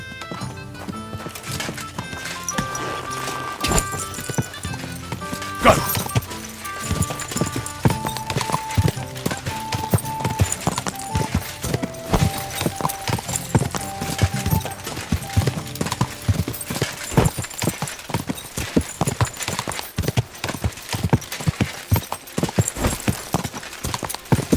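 Horse hooves clip-clop steadily in the medieval video game Kingdom Come Deliverance 2, a dense continuous rhythm of hoofbeats under a music score that runs throughout, with no talking.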